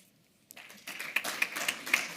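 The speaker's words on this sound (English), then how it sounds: "Professor Tuskin needs applause as well" Audience applause for a professor at a conference panel on cancer care, starting from silence and building into steady, moderately faint clapping from a seated crowd.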